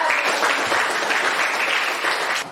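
Applause from a class of students fills the room, a dense steady patter of many hands clapping nearby that holds evenly and drops off sharply at the very end.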